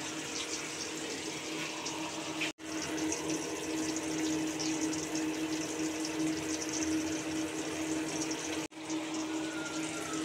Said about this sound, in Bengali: এবার এই দুধের বাটিটা ধুয়ে একটু জল দিয়ে দেবো।